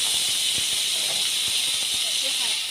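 Potatoes drop into a pan of hot frying oil after eggplant and sizzle loudly. A steady bright hiss runs throughout, with light pops and clicks scattered through it.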